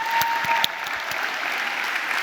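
Audience at a London College of Communication graduation ceremony applauds the graduates: dense, steady clapping from a large crowd filling the room, with a few sharper individual claps standing out early on.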